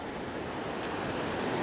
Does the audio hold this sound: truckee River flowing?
yes